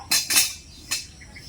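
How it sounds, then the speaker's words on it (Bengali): A wok set down on a lit clay stove, two quick close metallic clanks followed by a third lighter knock, brief and sharp against a quiet background. "উনুন ধরানো হয়ে গেছে কড়াই বসিয়ে দেব"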